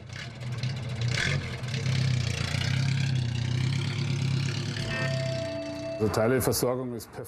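A rebuilt 1929 Ford Model A engine runs steadily in a car with a low, even drone, partly under a narrator's voice, before someone speaks over it near the end.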